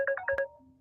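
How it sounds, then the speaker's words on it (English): Phone ringtone: a bright, close electronic trill of four quick pulses, heard alone. "Phone's ringing."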